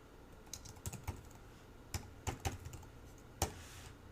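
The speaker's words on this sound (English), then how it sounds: "here we're just going to type in the name of the member" Keys tapped on a computer keyboard in a few sparse, quiet bursts of clicks separated by pauses, close and alone with no voices.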